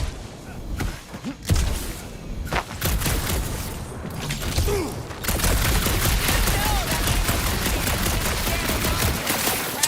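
Sustained bursts of video-game gunfire in Marvel's Guardians of the Galaxy, loud and dense with sharp repeated shots and booms filling the whole stretch, no speech over it.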